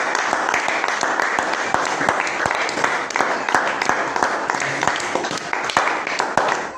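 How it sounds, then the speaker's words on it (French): A church congregation claps during a lively worship service: dense, continuous applause with sharp hand strikes throughout, mixed with voices, holding a steady loud level. "Applaudissons pour le Seigneur Jésus."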